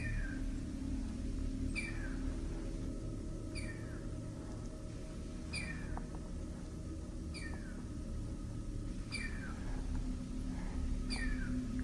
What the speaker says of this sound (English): now I'm hearing this meowing